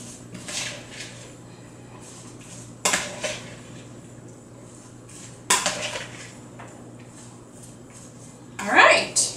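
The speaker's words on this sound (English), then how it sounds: "Stir this up." Salsa gets stirred in a bowl with a utensil, giving light clinks and scrapes in a few separate bursts, close by and fairly quiet.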